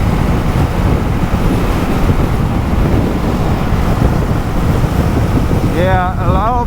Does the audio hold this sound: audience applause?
no